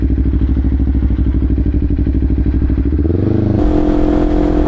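Kawasaki Ninja 500 motorcycle with a new, very loud aftermarket exhaust, close up: a steady throbbing engine note, then a sharp rev near the end that rises into a louder, rougher roar.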